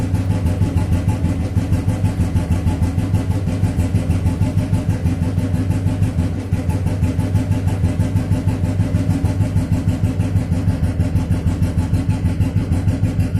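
A Royal Enfield 350/500 cast iron standard engine runs at a steady idle after starting, a loud, continuous low thumping close by with an even rhythm for the whole stretch and no voices.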